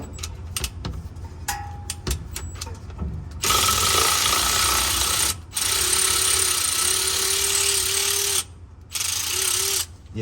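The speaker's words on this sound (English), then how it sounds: "we're gonna go and pop off a few of these bolts in the back just to get this fluid started draining" A ratchet clicks rapidly as it backs bolts out of an original, never-opened transmission during engine removal for a built 6.0 LS swap. Bursts of loud mechanical clatter stop and start several times.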